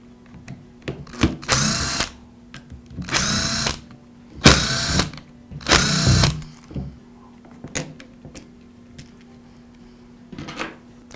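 Four bursts of a cordless Milwaukee drill run loud and close while backing screws out of the drill's rear cover, each lasting about a second, separated by short pauses and followed by faint clicks and handling noise.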